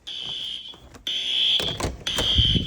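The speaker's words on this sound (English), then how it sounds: "when I started playing this, the fire alarm just been blaring" A piercing high-pitched fire alarm blares in repeated long pulses, with brief gaps and some rustling and knocking underneath.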